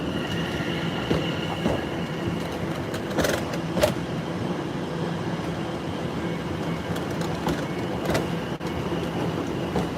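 A two-unit train rolls into London Liverpool Street station with a steady rumble of wheels on rails, broken by a few sharp metallic squeals and clanks as it slows.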